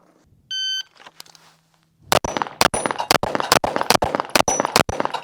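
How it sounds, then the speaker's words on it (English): A shot timer gives one electronic beep, then a Cardinal Arms G2 pistol fires a rapid string of about ten loud, close gunshots in quick, fairly even rhythm at plate targets on a range. "so far, I like shooting this gun"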